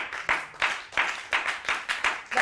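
A church congregation applauds together, rhythmic bursts of clapping rising and falling in regular waves, fairly close and steady with no talk over it.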